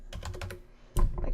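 Rapid clicking on a computer keyboard during text entry in Microsoft PowerPoint, a close run of quick keystrokes followed by a brief pause and one louder clack, with no voices.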